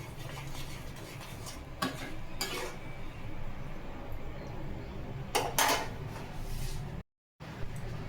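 Tamarind chutney is stirred in a pan, with a steady low bubbling hiss broken by a few sharp metallic scrapes and taps of the spoon, close and moderately quiet, with a brief dropout near the end.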